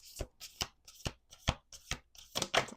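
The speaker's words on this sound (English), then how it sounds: "Let's do two more shuffles." Playing cards shuffled at a table in a series of about seven quick riffling bursts, each crisp and close, separated by brief pauses, with no voices.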